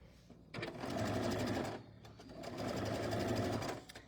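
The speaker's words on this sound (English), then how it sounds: "this is another great chain stitching opportunity to just kind of stitch all these at one time" A sewing machine chain stitches quilt units for a Riley Blake Brimming Basket tabletop banner, running in two steady bursts with a brief pause between them, close and fairly loud.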